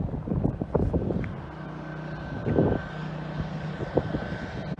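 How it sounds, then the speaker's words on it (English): Track sweeper vehicle driving along the Carolina Motorsports Park race circuit near the Kink, a steady engine drone with wind rumble, moderately loud and continuous throughout. "our friend the track sweeper is coming back again"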